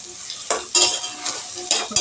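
Mushrooms and tomatoes frying in a pan as they are stirred: a steady sizzle broken by several sharp scraping strokes of a utensil against the pan, close and fairly loud.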